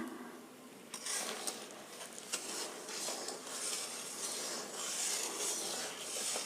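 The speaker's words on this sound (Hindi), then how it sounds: "अंदर में चिपके नहीं, हम चलाते रहें कलछी से" A ladle scraping and rubbing around an iron kadhai while jaggery melts, a continuous gritty stirring sound with occasional clinks, close up and without speech.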